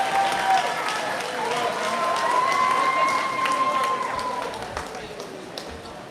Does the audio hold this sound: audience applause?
yes